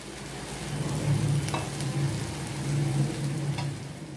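Raw banana slices fry in hot oil in a pan, giving a close, steady crackling sizzle with light bubbling throughout, with no voice over it.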